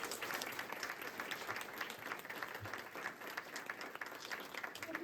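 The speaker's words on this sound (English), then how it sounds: "So let's give a round of applause for us." An audience at a community crisis response team gathering applauds for several seconds, the clapping dense and steady at a moderate, somewhat distant level, with no voices over it.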